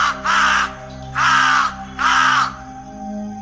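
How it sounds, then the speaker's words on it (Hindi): Three harsh caws from a crow, evenly spaced and loud, ringing out over a low steady hum. "तभी एक कौवा उनके सिर के ऊपर से चीखता हुआ गुजरा।"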